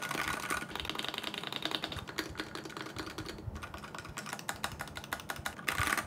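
Steady rapid clacking of typing on a custom mechanical keyboard with unlubricated switches, close and moderately quiet, with continuous keystrokes throughout and no talking.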